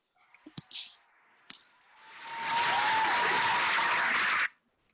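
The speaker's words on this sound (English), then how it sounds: "Can we give again our team elite Pavo, Miss Marilyn Solis, a round of applause?" A round of applause for a speaker, starting after a few faint clicks and taps, swelling into a loud burst of clapping for about two seconds, then cutting off abruptly.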